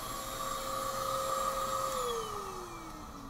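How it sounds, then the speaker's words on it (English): A vacuum cleaner runs with a steady whine that dips lower in pitch near the end, fairly close and with no talking, collecting dust while a cement wall is drilled. "So my job is to man the vacuum"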